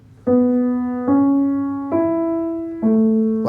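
Four single piano notes from the Gladiator theme are struck one after another at a slow, even pace, each ringing out and fading before the next.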